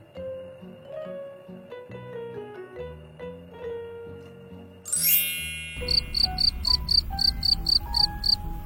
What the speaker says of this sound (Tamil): Cricket